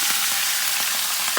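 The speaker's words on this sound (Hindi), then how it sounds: "इस तड़के को ये दाल पर हम लोग लगा देंगे" Hot tadka tempering poured over moong dal, giving a steady close sizzle and crackle with a few brief louder spits, no voices.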